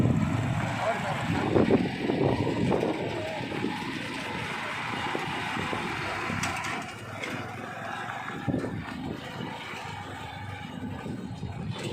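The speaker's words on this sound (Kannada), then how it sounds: "ಈಗ ಸರ್ ಗಾಡಿ ಹೊಡಿತಾ ಇದ್ದಾರೆ ನೋಡಿ" A vehicle being driven, a steady low engine rumble with some wind noise running throughout while people talk over it.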